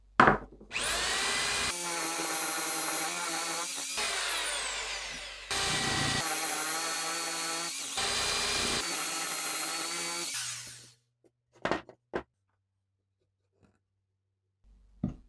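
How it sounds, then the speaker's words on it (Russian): A power drill with an 18 mm spade bit whines loudly as it bores 30 mm deep into wood, running in three long bursts with brief pauses, then stops, followed by a few sharp knocks. "Засверливаться буду на глубину 30 мм. Перьевым сверлом 18 мм."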